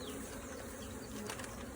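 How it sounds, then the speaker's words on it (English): Honey bees buzzing around a hive as field bees return to the box, a dense steady hum of many insects close by. "You can see the field bees going to be coming back into this box big time."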